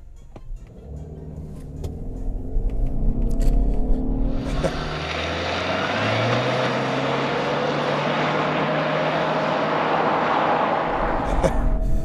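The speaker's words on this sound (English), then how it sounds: "I'm gonna test the acceleration with the Outback Wilderness" A 2022 Subaru Outback Wilderness with a CVT accelerates hard, its engine rising into a sustained, even drone that holds steady with little change in pitch. Road and wind noise build up loudly around it before it eases off.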